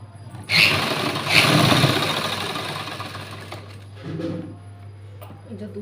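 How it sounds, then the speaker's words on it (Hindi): A sewing machine runs in two short bursts while stitching a double seam on a buttoned blouse, the whirring loud and near, followed by quieter mechanical clicks. "डबल सिलाई लगा देंगे।"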